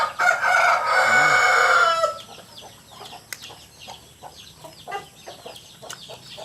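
A rooster crows loudly at the start, followed by chickens clucking and murmuring softly nearby in a scattered, irregular rhythm.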